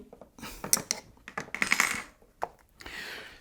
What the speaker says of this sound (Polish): Wkładamy, przykręcamy kluczem.